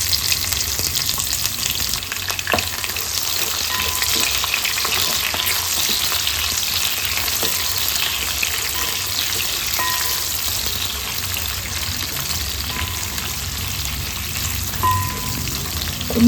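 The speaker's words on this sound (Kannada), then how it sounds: "ಅದನ್ನು ಸೇರಿಸ್ಕೊಂಡು ಚೆನ್ನಾಗಿ ಫ್ರೈ ಮಾಡ್ಕೊಳ್ಳೋಣ" Three long-sliced onions and a spoonful of mustard seeds frying in hot oil for a brinjal fry, a loud continuous close sizzle with scattered crackles and occasional faint clinks, no voices.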